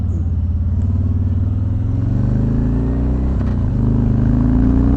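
A 2019 Harley-Davidson Street Glide with about 9,948 miles on it accelerates on the road, its deep loud engine drone rising steadily in pitch over wind noise, with no speech.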